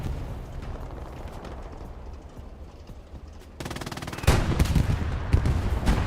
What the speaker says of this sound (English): Got our first tank engagement.